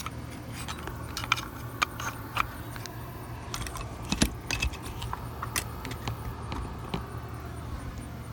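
An RV door lock and its locking plate being fitted together on a Coachman RV: small metallic clicks, rattles and jingles, close by and fairly quiet, in irregular bursts.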